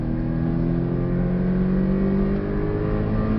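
A Porsche Cayman 718 S accelerates hard on the Portimao circuit, its engine holding a loud, steady drone with rising harmonics for a few seconds, close and continuous with no talk over it.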